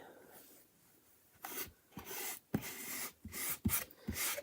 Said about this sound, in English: Rubbing it down super hard.